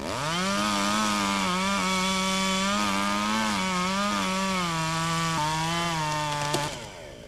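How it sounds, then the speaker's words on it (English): A chainsaw prunes the upper branches of a tree at Lytham Hall, its engine droning loud and steady. The pitch wavers as it cuts, then the sound cuts off near the end. "A bit of judicious pruning of the upper branches."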